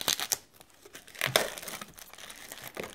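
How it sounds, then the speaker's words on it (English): Plastic wrap is torn and crinkled open on a stack of 4,000 glossy cardstock postcards, producing close, busy crackling and ripping noises in irregular bursts. "I'm going to go ahead and open up the plastic wrap and see what we get."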